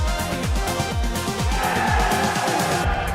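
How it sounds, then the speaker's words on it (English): Loud crowd roar at a live darts event, sustained and dense throughout with rhythmic surging swells, no clear talk over it. "that might well be the biggest cheer we see tonight"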